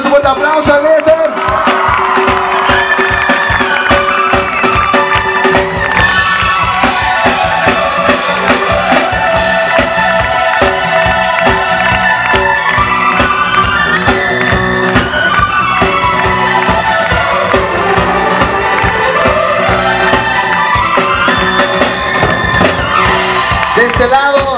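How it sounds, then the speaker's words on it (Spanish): A concert crowd at a Christian worship event cheers, whoops and applauds loudly over continuous band music, the noise sustained and dense throughout. "un fuerte aplauso a Eliezer"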